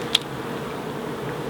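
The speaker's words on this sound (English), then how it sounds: "7 frames of bees there." Honey bees in a hive of seven frames, set up from a summer swarm, give a steady, dense buzz close by, with one brief click near the start and no talk.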